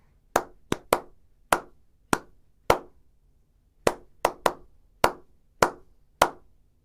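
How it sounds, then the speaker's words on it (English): A single person claps out a rhythmic phrase of about a dozen sharp, close hand claps, grouped with irregular gaps and pauses between short runs, with no other sound around them. "I'm going to clap out a rhythm."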